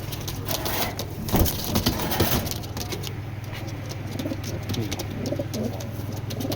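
Large foreign pigeons at a market stall, a father and son pair, cooing steadily nearby amid a low background hum, with a burst of flapping or handling noise early on.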